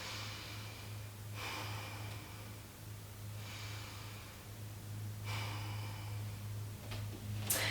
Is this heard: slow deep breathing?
yes